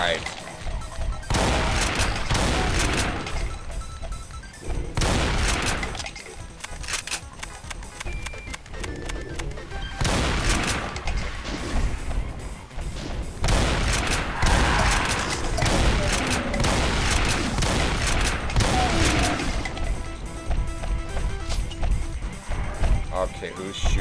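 Constant gunfire and explosions from the video game Doom 2, played with the Complex Doom mod, form a dense, loud barrage of overlapping shots and booms that runs without pause.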